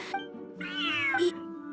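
A large cat in a video game lets out a clear, drawn-out meow that rises and falls, close and alone against a quiet background.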